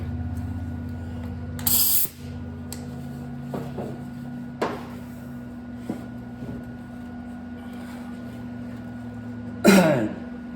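Compressed air from a compressor tank sprays in two short, sharp hisses, one near the start and one near the end, between faint knocks and clicks under a low steady hum.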